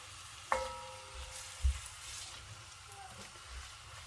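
Food stirred in a hot pan over a high stove while cooking lasagna sauce, a steady soft sizzle with a sharp clink of the utensil near the start and another knock midway.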